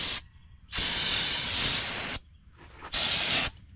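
Aerosol brake cleaner hisses onto a brake rotor during a front brake job on a 2010 Ford, in two loud, steady bursts, the first about one and a half seconds long and the second shorter, with a quiet pause between them.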